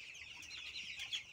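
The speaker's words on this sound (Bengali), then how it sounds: "আমার এই মুরগিগুলোর বয়স 12 দিন।" Twelve-day-old chickens raised on homemade feed cluck and peep close by, a steady, dense chorus of overlapping high-pitched calls with no talking.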